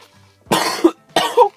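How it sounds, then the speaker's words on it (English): Two sharp, close coughs from a man, separated by a short pause, each a loud burst with a raspy tail. "I'm coughing out of excitement"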